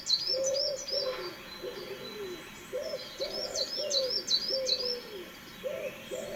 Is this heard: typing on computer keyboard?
no